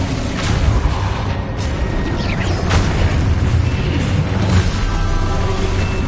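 Loud, dense spell explosions crash and boom in a combat scene from the video game Hogwarts Legacy. Heavy blasts and bursts follow one another with no break over a constant roaring backdrop.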